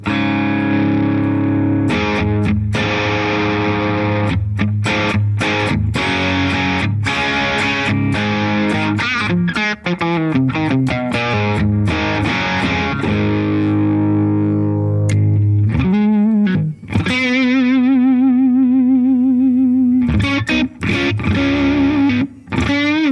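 Electric guitar played through a BIAS Head amp modeler set to a blues amp, loud and distorted, with picked notes and chords ringing out alone, then sustained tones with wavering modulation toward the end.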